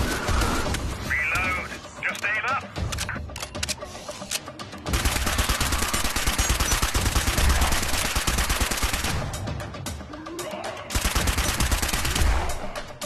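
Gunfire in the VR game Part X played on a Meta Quest 3: dense bursts of rapid automatic shots and scattered single shots, loud and nearly continuous, with brief pauses and a little talk.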